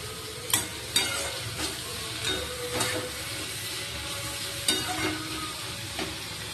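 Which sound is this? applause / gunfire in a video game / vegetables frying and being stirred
vegetables frying and being stirred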